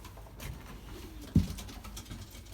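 Belgian racing pigeons in a loft, with soft cooing and low murmurs, a short louder coo or flutter midway, and faint shuffling and rustling throughout.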